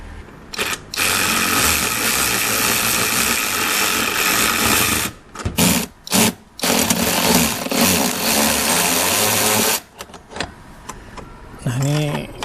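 A DCK cordless brushless ratchet wrench tightens bolts while a roof tent is mounted on a Toyota Fortuner 2.8 in a garage. It runs in loud, sustained buzzing bursts with short pauses between them, and a voice is heard near the end.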